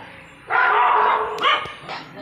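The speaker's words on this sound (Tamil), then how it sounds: "நாய் கட்டியிருக்காங்க அவங்க சேஃப்டிக்கு." A tied-up dog outside a house lets out a drawn-out bark followed by two shorter barks, moderately close, against a quiet background.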